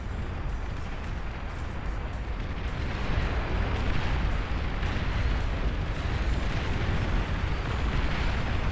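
A commander unit is destroyed in the strategy game Beyond All Reason. The explosion is a loud, sustained, roaring rumble, heavy in the low end, that continues unbroken without any speech.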